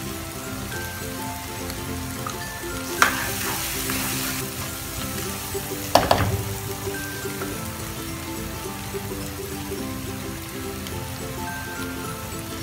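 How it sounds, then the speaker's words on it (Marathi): Misal masala fries in a pan with a steady, close sizzle like light rain, broken by two brief spatula scrapes against the pan. "मसाला छान परतला त्यामध्ये मिसळ मसाला"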